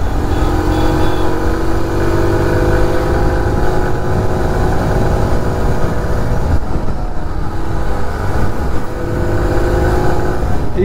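A 2023 TVS XL100 BS7 moped engine pulls steadily under throttle while riding, a continuous close drone whose pitch gradually climbs with no talk over it.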